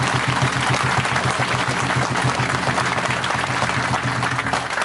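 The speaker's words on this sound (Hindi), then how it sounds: "इसलिए एक बार भारतीय सेना के लिए जोरदार जमकर तालियां बजाएंगे।" Audience at a conference in honour of the Indian army breaking into sustained, loud applause, dense clapping filling the whole stretch without pause.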